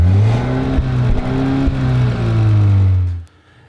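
Volvo XC90 with a supercharged and turbocharged twin-charged engine revving: a deep, close engine drone that swells and holds steady for about three seconds, then cuts off abruptly.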